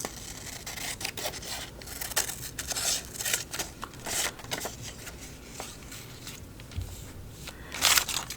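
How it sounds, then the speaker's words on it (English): Scissors cut through washi paper for collage envelopes, giving a quiet, close-up series of irregular snipping and crisp rustling strokes with short pauses between cuts. "And I think I'm just going to cut this along here."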